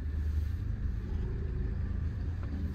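Tempo van arriving at an event venue, its engine rumbling low and steady nearby, swelling slightly as it pulls in, with no voices.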